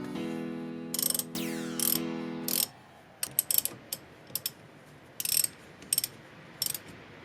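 A ratchet clicks in repeated short bursts while tightening 12mm brake caliper bolts on a Toyota MR2, crisp and close, with brief pauses and a ringing metallic tone early on.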